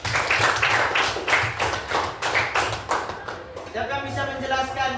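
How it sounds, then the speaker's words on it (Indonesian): A school class claps for a student, a lively burst of rhythmic, closely spaced hand claps that fades toward the end as voices take over. "Tepuk tangan dulu untuk Grace"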